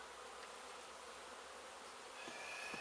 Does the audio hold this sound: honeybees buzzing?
yes